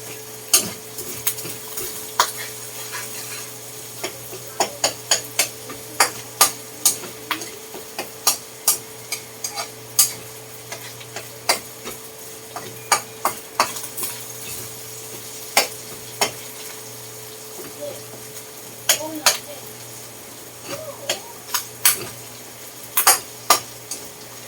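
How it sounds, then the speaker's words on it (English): Ground meat browning in a pan for spaghetti sauce, with a soft sizzle under a steady low hum and frequent sharp clinks and scrapes of a utensil stirring against the pan. No one speaks. "And I like to brown my meat pretty good for my spaghetti"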